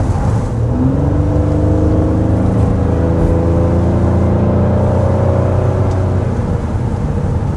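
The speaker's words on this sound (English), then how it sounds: "that smooth, refined V6 is certainly something that I've enjoyed this week" A 2026 Honda Pilot V6 engine revs and climbs smoothly in pitch as it accelerates, a steady, refined hum with rising harmonics, close and continuous with no voices.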